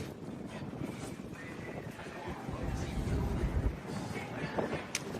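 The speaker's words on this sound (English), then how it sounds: "Very windy." Strong wind buffeting a microphone on the open deck of the Carnival Celebration cruise ship docked at Celebration Key, a steady rushing roar with louder gusts, no talking.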